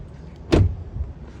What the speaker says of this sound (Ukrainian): Тяжкі двері приємні.